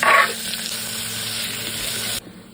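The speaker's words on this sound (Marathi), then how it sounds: "आता मी टाकते बारीक चॉप केलेला ऑनियन" Finely chopped onion hits a hot pan already holding fried garlic and chili, bursting into a loud sizzle that settles into a steady hiss, then cuts off abruptly near the end.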